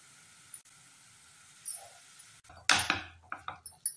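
Radish paratha filling, grated radish with turmeric, red chilli powder, salt and garam masala, tossed and stirred in a bowl, giving a burst of scraping and clattering knocks in the latter half after quieter kitchen sounds, with no talking.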